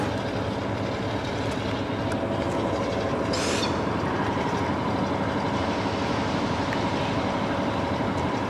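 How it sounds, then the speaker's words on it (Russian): An electric locomotive pulls a passenger train steadily along the rails, a continuous dense rumble with faint clatter and a brief hiss partway through. "Нас, как вы видите, электровоз тянет."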